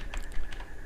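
Several light, quick keystrokes on a computer keyboard, close and fairly quiet, clustered in a short burst while entering a page name during WordPress WooCommerce setup, with no talking.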